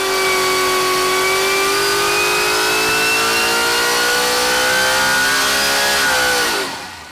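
A supercharged small block Ford Clevor rated around 1500 hp, fitted with a Harrop TVS2650 supercharger with the boost turned up, revs loud and close on test, holding a high steady whine that dips and falls away at the end.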